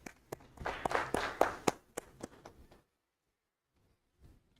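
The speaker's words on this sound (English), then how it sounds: "Another big round of applause" A brief round of applause from an audience at a symposium in Zanzibar: dense, fairly close clapping for under three seconds, then silence and a faint final patter.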